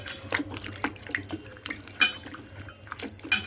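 Vegetables being washed in fresh water in a sink or basin, with intermittent splashing, sloshing and light knocks of produce and a vessel, close by with no talking.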